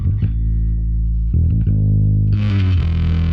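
Sustained low synth notes play with hard clipping, turning harsh and buzzy as a bright, crunchy distorted layer kicks in near the end.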